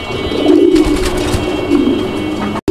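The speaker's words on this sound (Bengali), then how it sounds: "এটা হচ্ছে লাক্ষা কবুতর একটা পেয়ার, ব্ল্যাক কালারের লক্ষা কবুতর একটা জোড়া" A pair of black Lakkha pigeons coos in low, rolling phrases, close and fairly loud. Two or three coo bouts come in short succession, followed by a brief cut to silence at the end.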